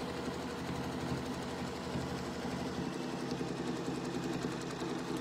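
Domestic sewing machine stitching a circle onto a quilt, running steadily and continuously at close range with a dense mechanical whir and rapid needle rhythm throughout.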